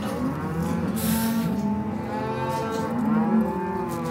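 Cattle on a ranch moo loudly and repeatedly, long drawn-out calls overlapping from several animals nearby, with no talking.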